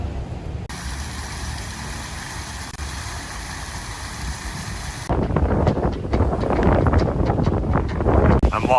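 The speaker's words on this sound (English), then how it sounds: "I'm walking along the pier at the end of town, and it's windy as fuck here" Strong wind gusting on a town pier in Uruguay, roaring steadily into the microphone and growing rougher and louder in the second half, with no other sounds standing out.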